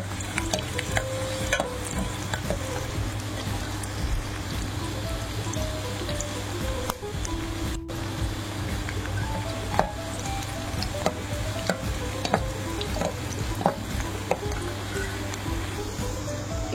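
Onion frying in oil with cumin and mustard seeds in a home kitchen, a steady close sizzle with scattered crackles and spoon stirring throughout, no talking.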